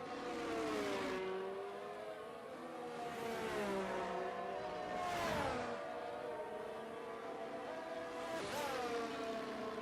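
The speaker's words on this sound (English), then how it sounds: "There's plenty of cars are going to come across the line right now" Formula One race cars in an F1 video game at Abu Dhabi scream past the line one after another, their steady engine whine dipping in pitch as each car sweeps by, with no talk.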